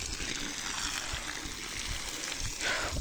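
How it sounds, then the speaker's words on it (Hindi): Water poured onto cow dung outdoors, a steady close trickling and splashing stream that keeps going throughout without pause. "इसलिए अब मैं इसमें डाल रही हूँ पानी"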